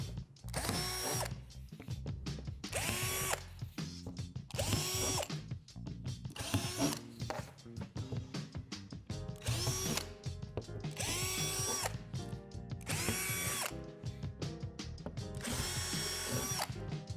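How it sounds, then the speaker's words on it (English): A power drill with a 3/8 bit bores divots into the edges of a Lifetime playset bridge panel, in repeated loud whining bursts of a second or so, separated by short pauses, with no talking. "Take the bridge panel and drill out the divots on the edges with a 3/8 drill bit."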